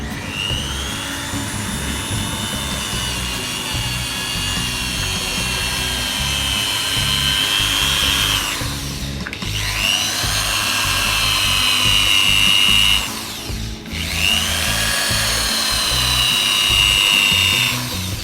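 A power drill with a sponge pad polishes a Royal Enfield Bullet motorcycle, whining steadily at high speed with a rough whirring texture, pausing briefly twice before spinning up again, close and loud.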